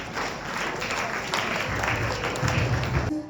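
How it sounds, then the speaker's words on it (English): Steady, broadband applause from an audience at an evaluated performance event, many hands clapping continuously and fairly close, with faint voices mixed underneath before stopping abruptly. "thank you for your applause"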